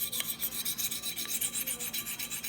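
A Spyderco Chaparral knife with an XHP steel blade is sharpened in rhythmic passes, about a dozen quiet, close rasping strokes in a steady back-and-forth rhythm, with no talking.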